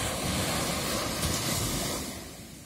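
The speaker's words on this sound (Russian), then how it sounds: "Вот такая волна здесь." Ocean waves wash onto Bang San beach in Phang Nga, Thailand, making a broad, steady roaring rush that fades slightly toward the end, with wind noise mixed in and no voices.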